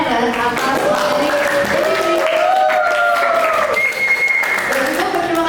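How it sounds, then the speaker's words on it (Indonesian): Applause from an audience at a public speaking seminar after a presenter's session, continuous clapping with tonal voices or music running over it. "kita berikan tepuk tangan sekali lagi untuk Kak Darren atas materi"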